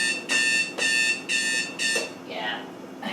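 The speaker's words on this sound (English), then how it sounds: "Let me turn the alarm off." A kitchen oven alarm sounds four loud, evenly spaced electronic beeps in a home kitchen during bread baking, then stops as a voice speaks briefly.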